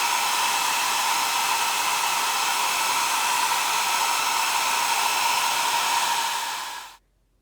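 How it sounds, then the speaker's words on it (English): A hair dryer on its low setting blows steadily while drying paint on small craft magnets, a constant close airy whoosh that cuts off abruptly near the end. "I'm just going to use a hair dryer on the low setting"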